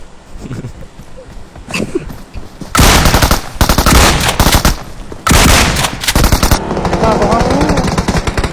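Rapid automatic gunfire from a shooting video game bursts out loud in two long stretches, with quieter clatter and shots before and after, while players talk over it.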